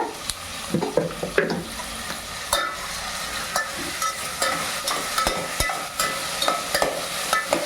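Salted vegetables cook in a pan for a Karnataka-style bisibelebath, with steady low sizzling and scattered scraping stirs from a spatula, close and moderately quiet, with no talk.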